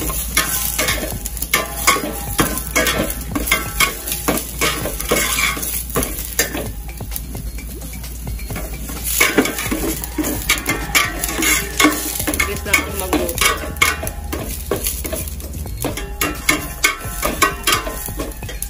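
Steady hot-oil sizzling of chicken frying in a pot fills the clip, with frequent clinks and scrapes of a utensil against the pot throughout; no voices.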